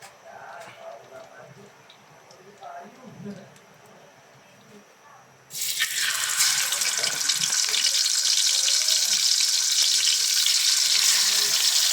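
Fish frying in a pan of used oil, a loud sustained hiss and sizzle starting abruptly midway, preceded by quieter kitchen noise and indistinct talk.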